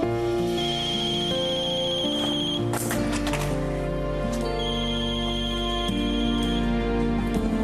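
A phone ringtone plays steadily and loudly on a TV soap opera while a call is being placed, its repeating tone sustained with no talk over it.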